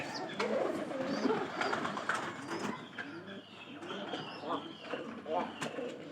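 Pigeons coo softly and repeatedly nearby, low throaty calls mixed with a few chirps, with a person talking over them throughout.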